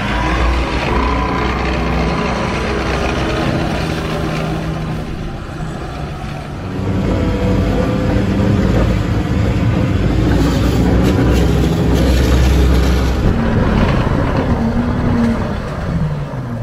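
Military trucks driving slowly, about 20 km/h, at an armour and artillery museum in Cairns, a loud continuous engine rumble and road roar that swells and eases over about seventeen seconds, with no talk.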